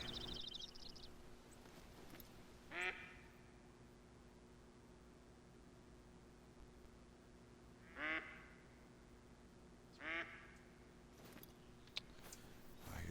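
Ducks quack in theHunter hunting game, three short distinct bursts spaced several seconds apart over a steady ambient outdoor hiss, moderately distant.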